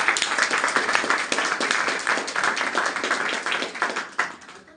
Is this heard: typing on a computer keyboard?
no